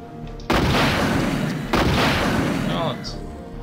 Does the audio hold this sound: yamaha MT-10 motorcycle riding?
no